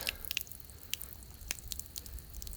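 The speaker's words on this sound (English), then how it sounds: "You can see here it's still draining, but just very slowly." Water drains very slowly from a home water heater, a quiet, uneven series of small drips and wet splats, close by and without talk.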